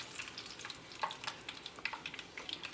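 A taco fries in hot grease, giving a faint, steady sizzle with scattered crackling pops.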